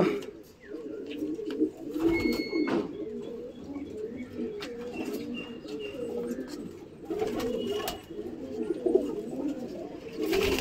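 Several pigeons coo in low, throaty rolls throughout, close and overlapping, with occasional chirps and light rustling inside a pigeon loft.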